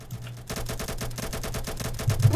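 Rapid automatic gunfire in the Roblox naval combat game Naval Warfare, a fast, evenly spaced burst of clattering shots that starts abruptly and runs steadily, with a deeper thud near the end.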